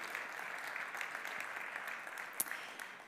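Awards ceremony audience applauding, a dense steady patter of many hands clapping at moderate distance for about three seconds, fairly soft, with one sharper clap standing out near the end.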